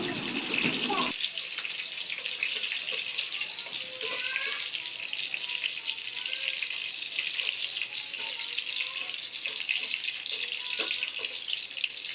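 Loud, steady sizzle of garlic frying in hot oil with dried red chilies, a dense continuous crackle close by that runs unbroken after a brief opening clatter.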